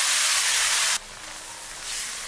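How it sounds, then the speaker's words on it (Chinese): Seasoning sauce poured into a hot wok over pan-fried tofu and minced pork sets off a loud, steady sizzling hiss, which drops to a softer crackle after a second and then swells slightly again. "调好的料汁也全部给它倒进来"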